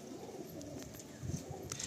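A female pigeon gives a brief low coo near the end, faint and close, against a quiet room background with no talking.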